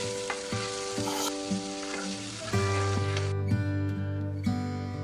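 Chopped onions fry and get stirred in soybean oil, a steady close sizzle broken by scraping stirs, with a low hum running underneath and no talk.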